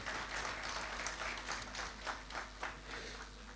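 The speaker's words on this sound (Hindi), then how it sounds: "आइए तालियों के साथ इनका अभिनंदन भी हम करते हैं।" Applause from an audience greets ghazal singers at a literary festival evening, faint, distant scattered clapping that swells and fades briefly over a low steady hum.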